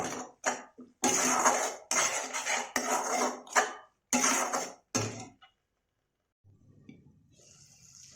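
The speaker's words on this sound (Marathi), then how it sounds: "आता मसाल्याला तेल सुटेस्तोवर चांगला आपण शिजवून घेणार आहोत।" Masala cooked in oil in a pan for shev bhaji, heard as bursts of clattering, scraping spoon-on-pan stirring separated by short pauses, close, then a quiet low sizzle at the end.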